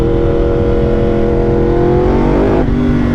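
A Yamaha R1 sport motorcycle engine revs steadily and loudly, its pitch climbing, then drops sharply near the end as the throttle is released.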